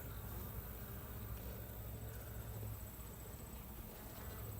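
Honey bees buzz at a hive with checkerboarded natural comb, a soft, steady, distant hum that stays continuous and faint throughout, with no voices.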